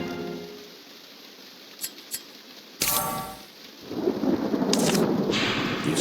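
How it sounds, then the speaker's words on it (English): Rain and thunder in the Penny Dreadfuls Sweeney Todd video game: a steady hiss of rain, a couple of faint clicks, then a sudden loud thunder crack that swells into a heavier downpour, with no talking. "It's raining, no surprise there."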